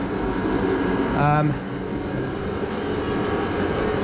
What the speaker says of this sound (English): I've got a remote to turn the fans on.